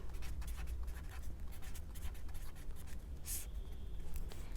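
Pen or pencil scratching notes onto paper in short, rapid strokes with brief pauses, close and quiet, with no voice over it.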